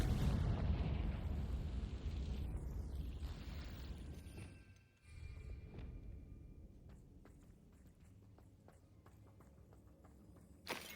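A Confringo blasting spell going off in Hogwarts Legacy: a loud, low, booming rumble that slowly dies away, followed by quieter crackling and scattered debris ticks, with no speech.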